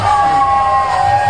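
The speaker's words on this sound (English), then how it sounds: "listen to the crowd cheering" A loud wrestling crowd at a battle rumble event, a dense roar of cheering with sustained tonal yells, filling the arena continuously.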